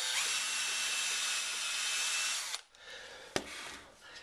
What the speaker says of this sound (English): There's the thinner drill. That's for the pilot hole.